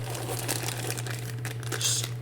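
LED tape for lighting a 1/200 scale Titanic model crinkles and rustles as it is handled, soft scattered crackles over a steady low electrical hum.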